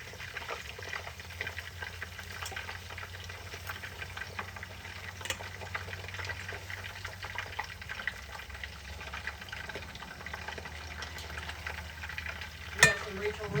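Pork sears in a hot pan over fairly high heat, a faint, steady sizzle with occasional small crackles and a louder clatter near the end.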